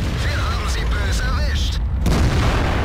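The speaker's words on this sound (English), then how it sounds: "I'm going to load a HE shell to shoot up his ass." A tank cannon fires a high-explosive shell in World of Tanks, a loud deep boom with a sharp crack around the two-second mark over continuous low engine rumble, with game sounds and talk throughout.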